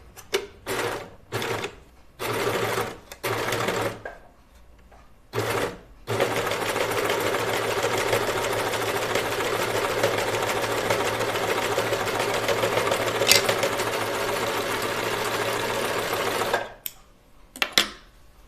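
A sewing machine chain stitches a Moneta dress, starting with several short stop-start bursts, then running in one long steady whirring stretch of about ten seconds before a few final short runs. The sound is close, with no talk.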